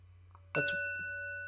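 A bell is struck once, giving a clear ding that rings on with a long, steady sustain as it slowly fades, alone in a quiet room.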